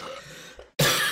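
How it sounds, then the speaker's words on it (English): A single wet, phlegmy cough bursts out loud and harsh after a short hush, with a rougher throaty rattle leading up to it. "that's a wet cough. It's not a dry cough."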